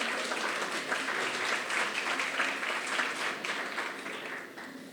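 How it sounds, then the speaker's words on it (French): Sustained audience applause at a French eloquence tournament evening, steady dense clapping filling the whole stretch and tapering slightly at the end. "Bravo Angèle, on l'applaudit."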